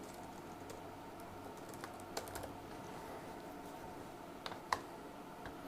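Quiet, steady typing on a computer keyboard with scattered key clicks and a few sharper taps, close by and alone without talk.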